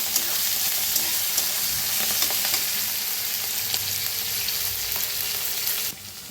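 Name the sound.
coriander leaves roasting in a pan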